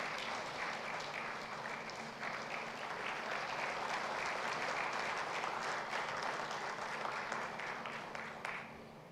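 Steady, sustained applause from a seminar audience at an international geology event, dense and even for about nine seconds before tapering at the end.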